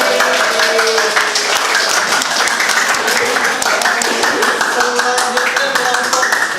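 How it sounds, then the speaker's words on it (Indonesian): A classroom of students applauding after a group presentation, dense fast clapping close by and loud, continuous for several seconds with some voices mixed in. "Berarti tepuk tangan itu"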